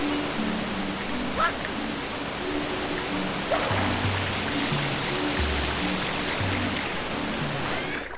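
A waterfall in the Super Mario Sunshine video game rushes as a steady, dense hiss throughout, with game tones and a voice speaking over it.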